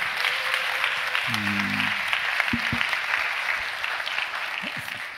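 A church congregation applauds steadily, a broad, even patter of clapping hands throughout, with a brief low tone and a few thumps in the middle.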